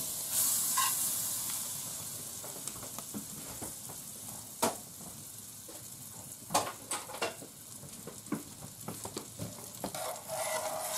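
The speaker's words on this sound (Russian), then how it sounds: "сливочное масло, это самое, сковородка такая горячая, моментально растает" Butter melts and sizzles in a very hot frying pan beside a village stove, a steady soft hiss punctuated by scattered sharp crackles and pops that grow busier toward the end, with no talking.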